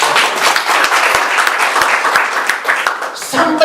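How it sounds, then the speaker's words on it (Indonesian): A church congregation at a Sunday worship service claps together in a dense, lively burst, with sharp individual claps standing out and a voice coming in over the tail. "Tepuk tangan dulu buat Tuhan."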